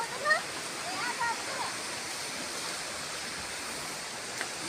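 Swollen Kirindi Oya river in Sri Lanka rushing past in flood, a steady broadband roar of water continuous throughout, with a faint brief voice near the start.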